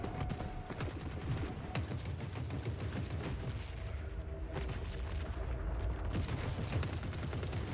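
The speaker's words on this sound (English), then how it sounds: "I hear grenade launchers and I'm terrified." Grenade launchers firing in the war game The Forever Winter, a steady barrage of heavy booms and gunfire layered into dense, continuous battlefield noise with no talk.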